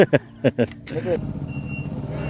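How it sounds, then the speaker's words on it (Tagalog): A vehicle backing up to make room for a sand delivery truck. A few sharp reversing beeps sound, then a steady engine rumble follows at close range, and voices speak briefly over it. "kinailangan muna natin iatras ang ating sasakyan para makapasok sila"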